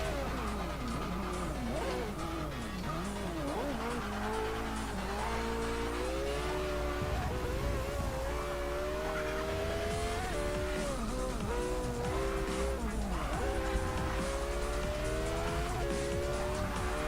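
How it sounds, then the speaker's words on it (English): A race car in Forza Motorsport 6 at Virginia International Raceway drones loudly and continuously, engine pitch rising and falling through gear shifts with intermittent tire squeal, no voices. "This car, though, is hard to drive."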